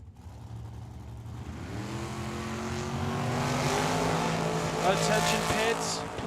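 Dragster and Camaro launching side by side at a drag strip, engines rising from a rough idle into a loud, building roar that holds and swells over several seconds, with an announcer's voice over the track sound.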